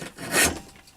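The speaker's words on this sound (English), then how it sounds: "I'm on my splitter at the moment, and that's what you just heard, is that pulling through" Leather for a knife sheath is drawn through a leather splitter, making a single broad, close rasping rub that swells for about half a second and then fades, with no voices.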